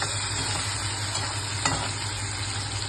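Tomatoes being stirred in a hot pan for spicy cheese Maggi, a steady close sizzle with a soft scrape of the spoon and no talking.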